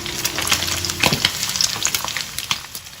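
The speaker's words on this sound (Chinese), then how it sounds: "炒锅里加入适量的油，把五花肉放进来煸香。 煸香了之后，把蒜头跟萝卜干放进来" Pork belly, garlic and dried radish stir-fried in a wok with oil produce a loud, continuous sizzle crackling with frequent pops and scrapes of stirring.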